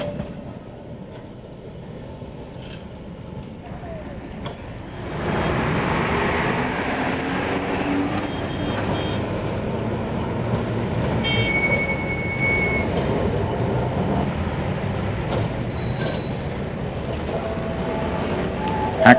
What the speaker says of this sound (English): Rare views of the two-axle coupled trains.